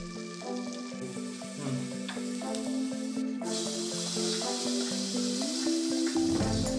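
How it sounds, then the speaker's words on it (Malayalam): Mustard seeds and curry leaves crackle and sizzle in hot oil for a bitter gourd and sesame curry, a steady close frying hiss with light popping throughout and no speech. "തിളപ്പിച്ച കറിയിലേക്ക് കടുകും കറിവേപ്പിലയും എണ്ണയിൽ മൂപ്പിച്ച് ചേർക്കാം."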